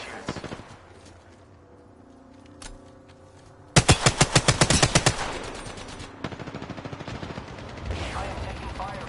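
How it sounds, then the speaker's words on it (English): Enemy gunfire in a shooter video game: a loud rapid burst of automatic fire in the middle, followed by scattered quieter shots and bursts, with sparse clicks and game sounds before it. "The enemies are shooting at me."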